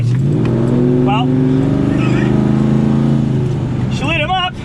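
A Ford XW with a 351 Cleveland V8 accelerating hard at full throttle, its loud engine roar climbing steadily in pitch through the gear, with brief voices calling out over it.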